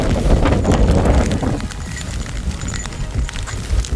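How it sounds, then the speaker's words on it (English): Strong wind buffets an exposed trail summit in northern Yukon, a steady loud roar with rough gusts battering the microphone throughout and no clear voices. "A little blustery up here."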